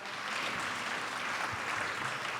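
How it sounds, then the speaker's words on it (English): An audience at a biotechnology symposium keynote applauds in a steady, dense wash of clapping from many hands, filling the hall evenly for a couple of seconds. "go ahead and give a clap for Spark"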